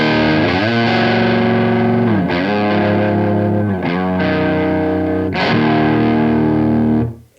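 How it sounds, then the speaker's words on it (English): Electric guitar played through an Evil Robot amplifier, heavily distorted sustained chords ringing loud and full, changing in a few slides and restrikes before cutting off at the end. "It's going to be hard to portray how big this amp sounds on YouTube"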